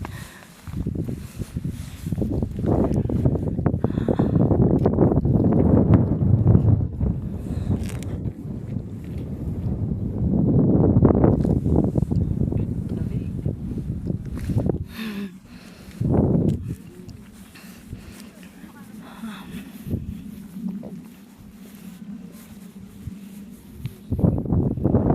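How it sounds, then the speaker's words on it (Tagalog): Cool mountain wind blowing on Mt. Olis in Atok, Benguet, buffeting the microphone in loud rushing gusts that swell and ease, with quieter stretches of footsteps and rustling later. "damhin ng simoy ng hangin, napakalamig."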